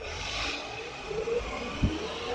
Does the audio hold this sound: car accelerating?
yes